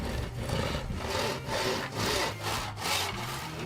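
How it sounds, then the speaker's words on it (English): A handsaw cuts through hardwood trim in steady back-and-forth strokes, about six rasping pulls in an even rhythm, close and clear with no talking. "To make up the crown, I'm cutting up some hardwood trim into 4 pieces of equal lengths."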